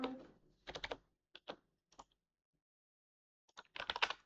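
Short bursts of typing on a computer keyboard as a password is entered: clustered key clicks with pauses between, close and quiet, no talk.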